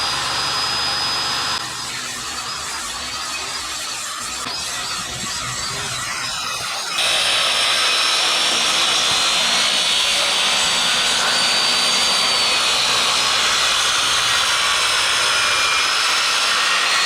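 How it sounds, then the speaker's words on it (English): A power saw trims the uneven ends of deck planks flush with the rim joist, its blade set to plank depth, producing a continuous loud whining buzz that dips briefly, then resumes steadily and grows louder. "The saw blade was set to the exact depth of the planks"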